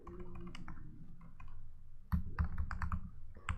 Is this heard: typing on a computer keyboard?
yes